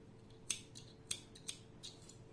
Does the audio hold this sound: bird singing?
no